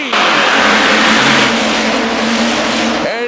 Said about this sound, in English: RPMs come up, and we're green!